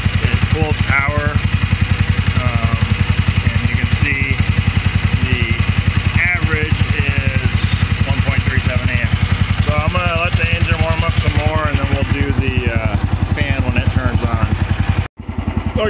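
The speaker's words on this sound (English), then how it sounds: "So if you look at it while it's running, it's a pulse pump, so it pulls power." A pulse-type oil pump on a Chinese mini excavator runs steadily with a fast, even mechanical buzz and rattle, loud and close, continuing unbroken until a brief dropout near the end.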